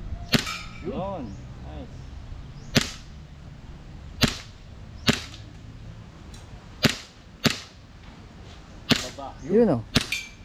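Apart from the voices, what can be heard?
airgun shots at a target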